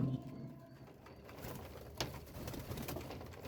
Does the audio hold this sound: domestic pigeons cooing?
yes